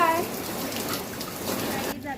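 Steady rain falls in Alibag, a dense, continuous hiss close by that never lets up.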